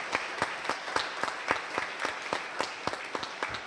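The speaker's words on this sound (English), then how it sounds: "Let's have a round of applause." Audience at a Hall of Fame induction ceremony gives steady applause, many hands clapping in a moderately loud, even patter that continues without any talk.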